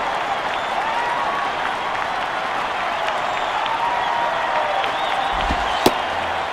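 Steady baseball stadium crowd murmur from MLB 08: The Show, a Marlins at Reds game, holding an even level throughout with a brief sharp knock near the end.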